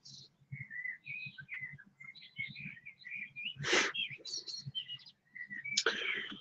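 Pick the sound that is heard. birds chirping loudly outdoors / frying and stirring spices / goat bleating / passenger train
birds chirping loudly outdoors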